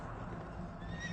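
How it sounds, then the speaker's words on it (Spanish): A black horse neighs in a single brief whinny, loud and close, with a rough breathy start that turns into a higher, wavering tone near the end. "Y vi aparecer un caballo negro, cuyo jinete tenía una balanza en la mano."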